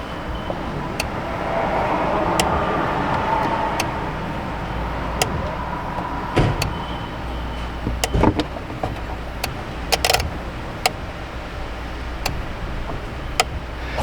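Sharp, isolated relay clicks tick at irregular intervals inside a 2009 Dodge Challenger with a dead-battery fault, each click crisp and close against a low, steady background hum.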